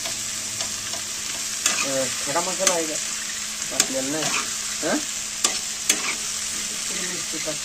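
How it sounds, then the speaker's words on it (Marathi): Fried green chillies and curd sizzle on a hot tava while a spatula stirs and scrapes in repeated strokes, the frying hiss loud and close as people talk briefly over it. "आता दही याच्यात टाकून घ्यायची तव्यावर थोडंसं"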